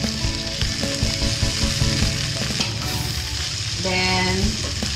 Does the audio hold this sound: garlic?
yes